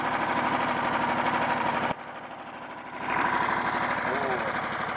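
A Homelite 4 horsepower lawn mower engine runs loud and steady with a fast pulsing putter, dipping briefly as if throttled down before revving back up, with a voice speaking over it.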